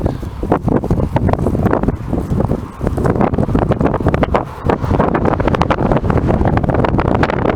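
Gusty wind buffets an outdoor microphone near a pond in a cattle pasture, producing loud, continuous rumbling bursts with brief lulls and no speech.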